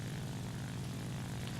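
A slow, weak American dive bomber in War Thunder drones steadily, its propeller engine giving a constant, loud, rough hum without pause.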